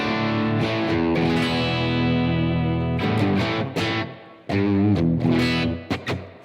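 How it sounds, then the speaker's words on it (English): An electric guitar with a humbucker pickup plays through a Blackstar AMPED 1 pedal on an EL84 UK setting with plenty of reverb. Sustained chords ring out and decay between a few sharp strums and gaps, with no talking. "Fair amount of reverb there"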